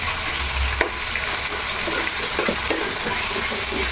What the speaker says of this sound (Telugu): చికెన్ బాగా వేగింది శుభ్రంగా మంచిగా